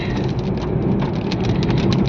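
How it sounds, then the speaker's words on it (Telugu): Heavy wind and rain storm on a road near the beach, a loud, dense, unbroken roar of downpour with low rumbling gusts beneath, close and constant, no voices. "గాలి వాన"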